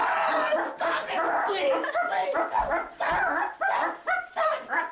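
A dog barks and yips in a rapid, agitated series, with whimpering mixed in, close and fairly loud; the repeated bursts sound partly voice-like and may be a person imitating the dog.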